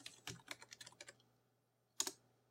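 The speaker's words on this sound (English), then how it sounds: "type in your password" A password is typed on a computer keyboard: a quick run of about a dozen crisp key taps, a pause, then a final pair of keystrokes, all close and clear in a quiet room.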